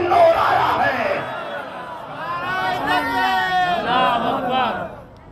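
A crowd at a religious gathering chanting slogans together, loud massed voices rising and falling in a few swelling shouted phrases before fading at the end.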